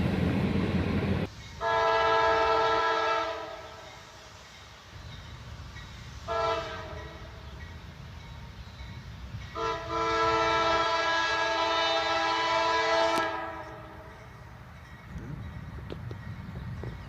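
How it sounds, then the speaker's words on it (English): A pair of Norfolk Southern locomotives, an ET44AC and a Dash 9, sound a loud, chord-like train horn in repeated blasts: a long one, a short toot, then another long sustained blast, over the rumble of the passing train. "A nice little horn show from the engineer"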